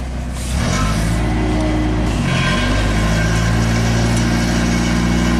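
A 1999 UpRight SB60 boom lift starts its engine and begins driving, a low steady mid-pitched engine drone with a brief hiss and shift in tone, continuous and fairly close.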